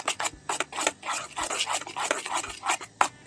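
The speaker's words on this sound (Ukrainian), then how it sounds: "І розмішуємо." Rhythmic scraping and clinking of a utensil stirring thick honey cake batter with baking soda in a bowl, close and fairly quiet, repeating in quick strokes.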